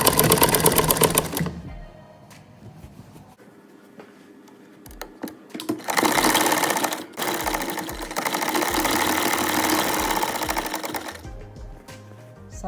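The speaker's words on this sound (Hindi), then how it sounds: "अब मैं सिलाई जो है सिर्फ कपड़े के ऊपर लगाऊंगी।" A sewing machine stitches along folded cloth for ladies' trousers with elastic, whirring in several runs, a long burst early, a pause with faint handling, then sustained close stitching before it stops.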